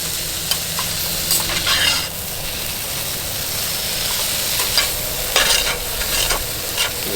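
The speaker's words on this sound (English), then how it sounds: "I'm scraping some of that stuff right off the bottom of that skillet with that spatula." Spatula scraping and stirring across the bottom of a case hardened skillet of pastalaya at a camp cooking setup, steady sizzle underneath with scattered brighter scrapes, close and fairly loud, no talk.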